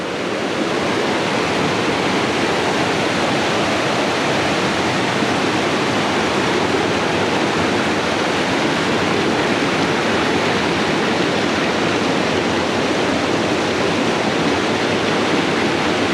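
A steady, dense rush of creek water tumbling over rocks, continuous and close without any voices.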